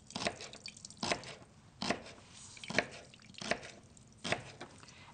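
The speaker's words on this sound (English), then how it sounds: "I'm squeezing it out because the water, when it went into the freezer, it automatically went right up into that tofu" Thawed firm tofu being squeezed, giving about seven evenly spaced wet squelches with water dripping out, close and fairly quiet, with no talking.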